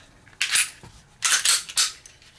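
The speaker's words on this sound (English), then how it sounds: "Drop the barrel in, drop the recoil spring in, line it up, lock it back, flip the lever down" Metallic clicks and slides come from a Springfield Hellcat .380 pistol being reassembled, with a few sharp snaps as the slide locks back and the lever flips down, close and crisp.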